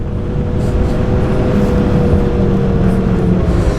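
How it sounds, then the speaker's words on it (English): A 2025 Lynx Xterrain RE 900 Turbo R snowmobile fitted with an MCX 210 kit and blow-off valve runs with a loud, steady engine drone and whirring turbo tone, close and continuous without clear revving peaks. "The sled sounds so cool with the MCX kit and the blow-off valve."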